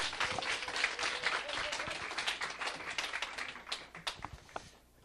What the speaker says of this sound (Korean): 로얄 매니저 이용설 사장님 모실 건데 큰 박수 모시겠습니다.